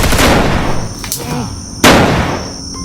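Gunshots from a gun in a dramatic scene: two sharp, loud cracks about three-quarters of a second apart, ringing over a noisy, busy background.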